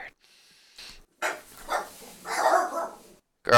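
Dogs bark in short bursts at close range, mixed with a voice talking over them in a home setting.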